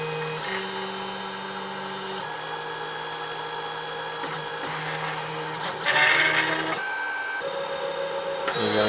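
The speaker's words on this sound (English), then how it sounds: "it's calibrating just like it would if you were printing directly from an SD card" A Monoprice Mini Delta 3D printer calibrating before printing, with stepper motors whining in shifting steady tones that change pitch every second or so, plus brief clicks and a louder buzzy burst near the end, close and alone.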